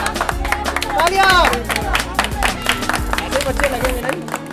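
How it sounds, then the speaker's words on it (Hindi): An audience at a yoga session claps briefly amid crowd chatter and movement; the claps are irregular and close, mixed with voices and background hubbub. "तालियां।"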